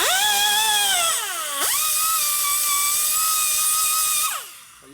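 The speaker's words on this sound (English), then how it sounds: "You hear the valve bowl getting dug in." Die grinder porting the valve bowl of an aluminum S&S Evo motorcycle cylinder head: a loud, high-pitched whine that dips briefly as the bit bites, spins back up, then winds down at the end.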